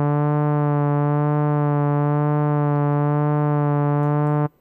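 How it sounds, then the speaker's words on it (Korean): Native Instruments Massive synthesizer oscillator holds one bright, buzzy sustained note whose pitch gently wobbles up and down in a slow, regular LFO vibrato, loud and alone, then stops abruptly. "자, 그러면 피치가 위아래로 이렇게 흔들리는 걸볼 수가 있을 거예요."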